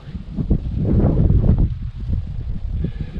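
Gusty wind on the Larzac plateau in France buffets the microphone inside a small rock hollow, with low rumbling surges that rise and fall, near and fairly loud, with no voices.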